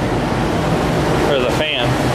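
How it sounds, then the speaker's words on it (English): A workshop heater's fan runs with a steady, even broadband whoosh that fills the whole moment, close by, with a few faint tonal wobbles near the end. "Heater finally kicked on."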